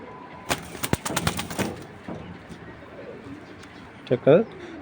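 Racing pigeons in a loft coo briefly near the end, preceded by a cluster of sharp clicks and flutters, while someone talks nearby.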